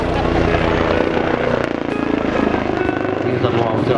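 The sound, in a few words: helicopter performing turns at air show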